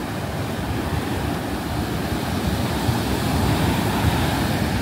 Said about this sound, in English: it looks like pretty good surfing waves